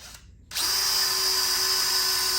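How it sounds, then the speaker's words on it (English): After a short pause, a power drill spins up and drills through a closet panel, running continuously with a loud, steady whine at close range. "Now we're going to drill through these, all right?"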